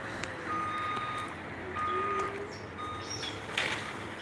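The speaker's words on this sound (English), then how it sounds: "Are they moving the trucks back over here?" A truck's reversing alarm beeps at a steady, regular rhythm from some distance at an encampment demolition site, the beeps set against a constant outdoor rumble and scattered clanks.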